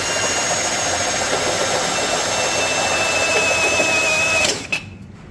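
A power drill with a badly worn bit whines and grinds steadily at close range for several seconds while boring a hole, then cuts off abruptly.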